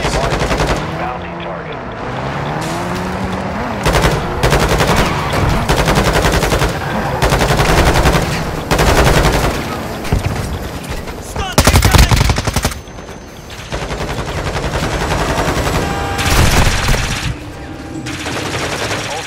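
Sustained automatic gunfire and explosions in a Call of Duty match, rapid bursts and heavy fusillades filling nearly the whole stretch with loud, dense cracks, a brief voice surfacing faintly underneath.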